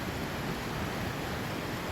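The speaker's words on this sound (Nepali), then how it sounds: "यहाँबाट आउँछ पानी यस्तो बग्दै बग्दै बग्दै" Steady, full rush of the dark-watered Tangkhuwa river flowing near Dhankuta, a continuous broadband roar with no voices.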